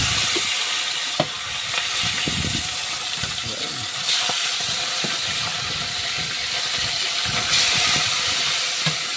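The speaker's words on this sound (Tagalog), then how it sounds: "Sarang na natin yung isda at mainit na yung kawali na mantika." Fish fries in hot oil in a pan, a loud, steady sizzle and crackle with scattered pops and spatters, close and continuous throughout.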